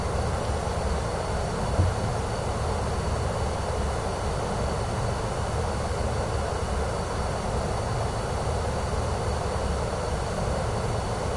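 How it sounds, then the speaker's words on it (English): Aircraft engine in Microsoft Flight Simulator 2024 on PS5: a steady, even drone runs unbroken throughout at moderate level, with no talking over it. "if I set this for 100 engine sounds, you'll hear a difference"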